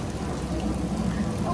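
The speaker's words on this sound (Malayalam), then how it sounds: "നല്ല മഴ ഉണ്ടല്ലേ" Heavy rain pours during a weekend outing in the UAE, a steady, soft hiss of falling water with no breaks, fairly faint and even throughout.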